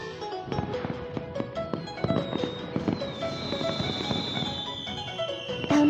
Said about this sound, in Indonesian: Ada banyak sekali kembang api.